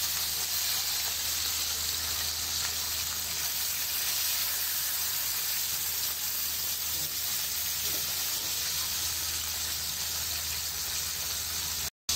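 Fish frying in a pan in a home kitchen, giving a steady, even hiss and sizzle that runs unbroken for the whole stretch with no talk.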